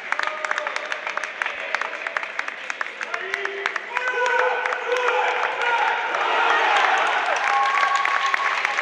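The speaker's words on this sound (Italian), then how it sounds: "vanno ora a prendersi l'applauso dei tifosi" Handball fans at courtside applaud the winning team after a Serie A Gold match, with steady, dense clapping and crowd noise that swells louder partway through and then holds, with occasional whoops among the claps.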